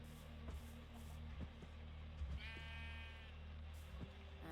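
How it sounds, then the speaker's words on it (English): Baby sheep bleating in Minecraft, a single wavering high bleat in the middle over a quiet game backdrop with faint periodic clicks. "did you hear the baby sheep bleating?"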